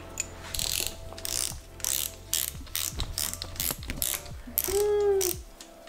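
A ratchet wrench clicks repeatedly as bolts are torqued down on a junkyard engine shortblock in a garage build, loud, close bursts of rapid ratcheting separated by short pauses.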